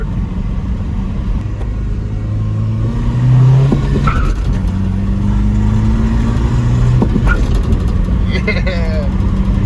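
A 1986 Ford F250 with a Super Cobra Jet engine and manual stick shift, driving in the heat. The engine rumbles steadily from inside the cab and the revs rise and fall through gear changes, with voices talking over it.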